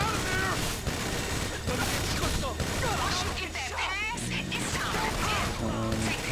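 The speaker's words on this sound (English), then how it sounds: "I'm gonna use my minigun to clear these guys" Rapid automatic fire from a minigun in the video game GTA Online, loud and continuous across the whole stretch, mixed with game sound effects and the rattle of combat.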